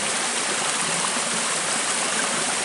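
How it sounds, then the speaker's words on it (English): Water rushes steadily over rocks at a waterfall, making a dense, even hiss and roar that stays constant throughout with no voices. "Nice waterfall, sweetheart."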